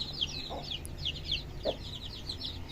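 Chicks on an Aseel high flyer chicken farm give a steady run of soft, high cheeping calls with faint clucks, fairly close over a low background hum.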